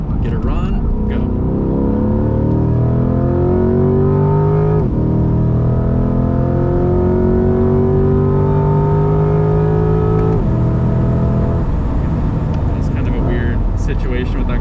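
A Corvette C8 revs hard on the Spring Mountain race track, its engine note climbing through rising sweeps, then dropping at gear shifts before climbing again, loud and close inside the cabin with people talking over it.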